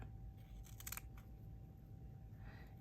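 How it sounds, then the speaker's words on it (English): Scissors snip through a folded paper angel ornament, cutting it in half at a craft desk; a short cluster of crisp cuts, fairly quiet against low room hum, with no talking. "let's just cut this in half"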